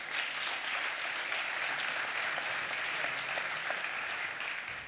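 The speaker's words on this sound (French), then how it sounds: "on vous applaudit pour cette réponse aux questions de cet échange" Audience applause at a round-table discussion during a network conference, steady dense clapping that fills the whole stretch at even loudness, with no voices over it.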